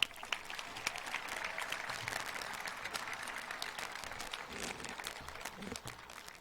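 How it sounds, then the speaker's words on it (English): A commencement ceremony audience gives a round of applause, steady and moderately distant, lasting several seconds without speech. "Another round of applause."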